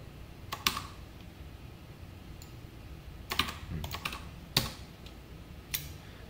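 Typing SQL code on a computer keyboard: quiet, scattered clusters of keystrokes with pauses between bursts, close by and with no talk.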